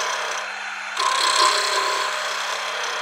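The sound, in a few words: woodturning lathe hollowing an ornament with a straight tool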